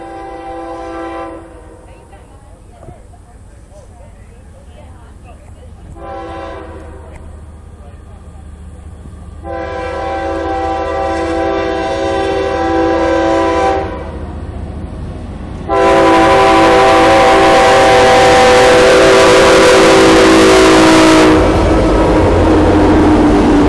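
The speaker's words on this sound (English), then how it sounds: "Yeah, another train going, train number 11 for today." A CSX freight train rolls past near Folkston, its horn sounding in several long, loud blasts that grow stronger and closer, over a steady rumble of rail cars. A voice talks briefly under the passing train.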